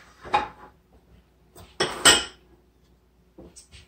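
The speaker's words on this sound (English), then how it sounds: "And now I'm going to move my mix master back." A Mix Master stand mixer shifted across a kitchen counter, making a couple of close, brief knocking and rattling clunks with quiet gaps between them.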